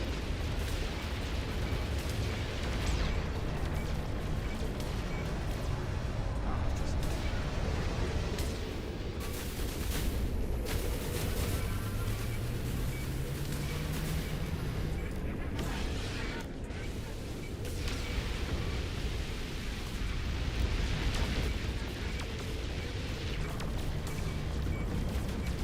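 Gunfire and explosions in a video game, a steady barrage of shots and booms running throughout at fairly even loudness.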